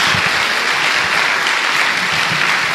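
A congregation at a Portuguese-language worship service applauds steadily, dense continuous clapping at even volume throughout, with no voices standing out.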